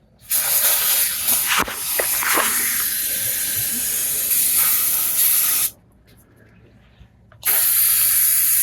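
Aerosol brake cleaner hisses onto the rear brakes of a 2008 Ford F150 4WD in two loud, close bursts, one long spray, a short pause, then another.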